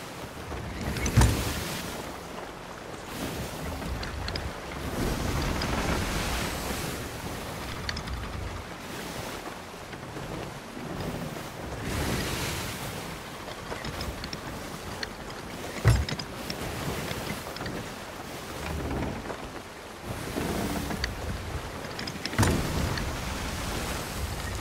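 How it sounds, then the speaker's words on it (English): Rough seas in a pirate video game during a storm: waves surge and crash in repeated swells with sharp splashes and a constant wind-driven roar, moderately loud and without talk. "Seas are getting a little bit rough. Right from that storm over there."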